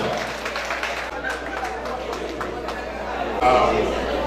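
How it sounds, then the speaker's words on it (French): An audience applauds at an inauguration event, clapping mixed with crowd chatter and voices, at a steady level with a brief rise near the end. "Applaudissez s'il vous plaît pour lui"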